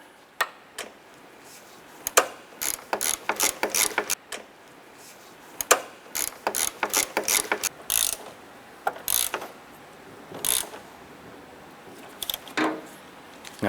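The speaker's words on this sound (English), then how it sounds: "we'll snug down that back one with our ratchet" A ratchet snugs down a strut nut on a 2007-2012 Nissan Versa, giving close, sharp bursts of rapid clicking in repeated strokes with short pauses between them.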